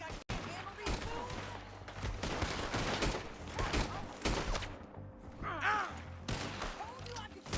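A video game shootout brings rapid, dense gunfire in overlapping bursts, fairly close and loud, with brief lulls and a voice grunting between the shots.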